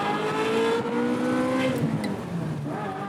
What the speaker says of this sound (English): it makes for the most amazing engine noise you have ever